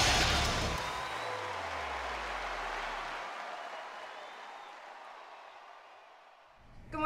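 A large crowd applauds and cheers loudly, the roar fading slowly over several seconds before a brief new sound at the end.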